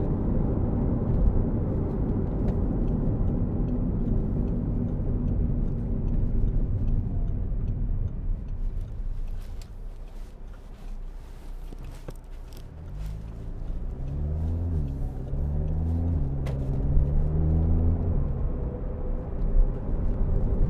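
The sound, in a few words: 2011 Audi TTS TFSI quattro driving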